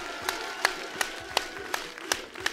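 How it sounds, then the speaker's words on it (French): An audience applauds after a player is announced at a LAN gaming event, with steady clapping and a few sharp louder claps spread through a brief burst. "Vous pouvez l'applaudir, faites du bruit!"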